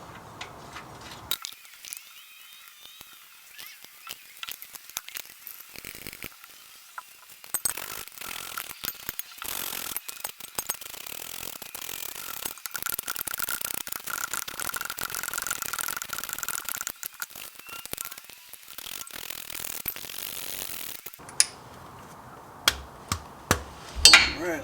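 A ratchet clicks steadily as it cranks down the oil pan bolts on a Jeep JK during a leaking gasket replacement, a close metallic whir broken by sharper knocks and clatter near the end.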